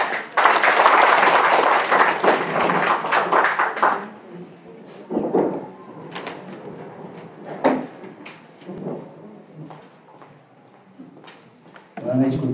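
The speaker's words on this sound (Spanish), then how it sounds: "Fuerte el aplauso para él, por favor." An audience at a regional education event in Apurímac applauding a speaker, a loud burst of clapping for a few seconds that fades into scattered claps, shuffling and speech.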